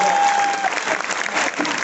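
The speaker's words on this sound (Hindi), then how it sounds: "एक बार जोरदार तालियां इस दमदार भाई के लिए।" A crowd at a Hindi comic poetry gathering breaks into loud applause, a thick wash of clapping lasting under two seconds, with a brief tone at the start and voices mixed faintly into the clapping.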